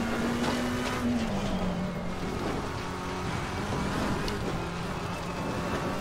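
A race car in Assetto Corsa Competizione plays at moderate volume, the engine note dropping on an early upshift and then holding steady under a constant whooshing backdrop.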